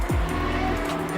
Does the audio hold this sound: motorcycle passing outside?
yes